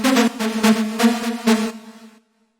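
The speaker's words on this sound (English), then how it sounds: "the way this is made is it's this pretty detuned supersaw sound" A bright, buzzy detuned supersaw synth lead plays a short rhythmic tech house phrase of repeated pulsing notes, then a held tone that fades out, with no other sound.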